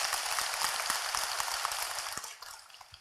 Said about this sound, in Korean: 어쩌 이렇게 적재적소에 박수도 치시고 호응도 잘하시고